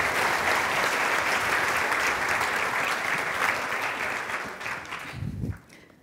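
Audience at the Edith Cowan Memorial Lecture for International Women's Day 2017 applauding the CEO and a panel as they are welcomed; dense, sustained clapping from a large crowd that fades out near the end.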